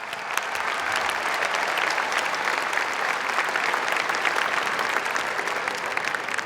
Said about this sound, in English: Please join me in a round of applause as we thank them all for their excellent leadership.